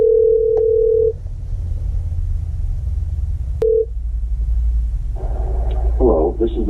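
A telephone ringback tone sounds while a call is placed from a car at a car show: one long steady tone and a shorter second one over low engine rumble, then a voice briefly answers at the end.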